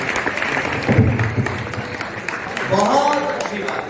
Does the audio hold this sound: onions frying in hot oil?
no